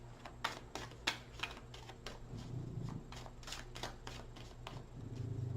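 A deck of cards being shuffled during a tarot reading, a quick series of crisp riffling bursts and soft slaps repeating throughout, close and fairly quiet over a low steady hum, with no talking.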